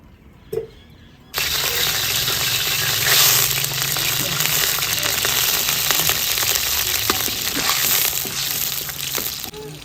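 Spices hitting a hot karahi pan for chicken karahi with onions, a sudden loud sizzle bursting in after a quiet start and holding strong and steady to the end.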